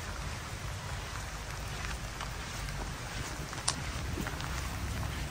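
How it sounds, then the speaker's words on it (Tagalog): Rain pours steadily, a dense even hiss with scattered droplet ticks and one sharper tap, moderately faint and with no voices. "walang trabaho ngayon kasi biglang buhos ang ulan, malakas."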